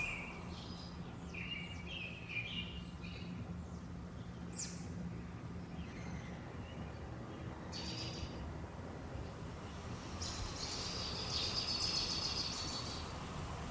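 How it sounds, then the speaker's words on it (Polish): Birds chirp and tweet at dawn in a city, scattered short calls fairly faint over a steady low urban hum, with a brighter burst of song near the end. "Ptaki."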